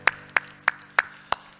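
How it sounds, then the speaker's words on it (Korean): A church congregation claps in unison at a Korean Sunday service: five crisp, evenly spaced claps in a steady rhythm about a third of a second apart, loud and close with quiet between each. "우리 하나님께 영광의 박수 합시다."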